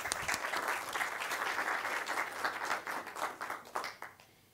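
An audience at a Django Girls Colombia technology inclusion event applauds a supporting company, with dense, lively clapping that thins and trails off near the end.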